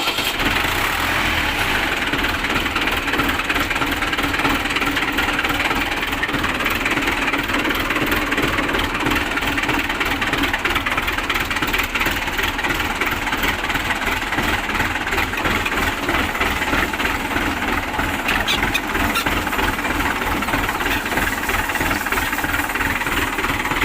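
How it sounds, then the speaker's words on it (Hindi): A tractor engine runs steadily at idle after being moved from the sun into shade, a continuous loud mid-pitched chugging rumble that fills the whole stretch without talk. "ट्रैक्टर धूप में खड़ा था तो उसको छाँव में किया है"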